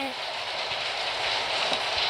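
Steady rain falls as a dense, continuous hiss throughout, fairly loud and even, with faint low thuds underneath.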